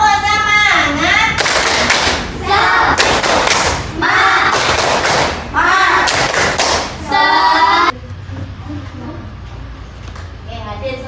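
A class of schoolchildren doing a rhythmic spirit clap, with bursts of loud group clapping and chanting voices in a repeating pattern, followed by quieter room sound.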